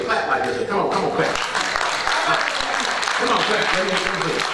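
A church congregation clapping their hands together, a dense sustained patter of many hands with voices talking over it throughout.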